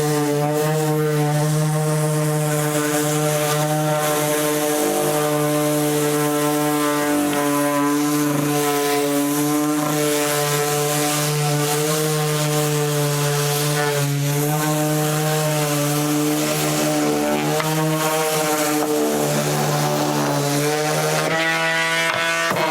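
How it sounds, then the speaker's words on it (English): A random orbit sander works over a wooden ladder, a loud continuous motorized drone with a steady buzzing tone that wavers slightly as pressure shifts, heard close and alone for the whole stretch. "I'm also going to random orbit this one really quick"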